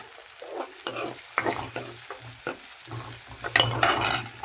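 Tomato and onion with a pinch of turmeric cooking in a pan over low heat, with a steady soft sizzle and repeated scraping stirs of a spoon against the pan, close by.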